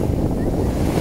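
Sea waves wash steadily onto a deeper, wavier stretch of golden-sand shore on Avşa Island, with a constant close rush of surf and wind buffeting the microphone.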